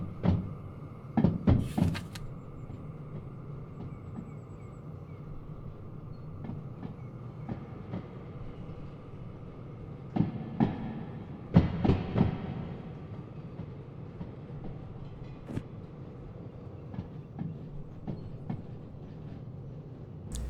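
Simulated train in the railway game Derail Valley, a heavy locomotive struggling on a grade toward Harbour Town: steady low rumble with clanking bursts and clickety-clack rattles, several louder clusters of knocks, no talking.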